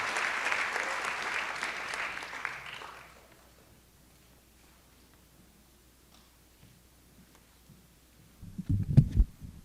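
Audience applause for a student award winner at a school board of education meeting, a few seconds of moderate crowd clapping that fades out into near silence, followed by a brief thump or handling noise.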